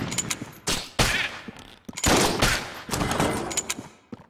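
Rapid volleys of crossbow shots fired into a group of enemies in the video game Enter the Gungeon, loud sharp bursts repeating in quick succession with brief pauses between.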